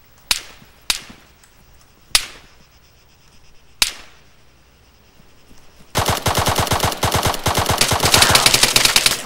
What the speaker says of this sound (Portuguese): O cara tomou uma rajada de M4.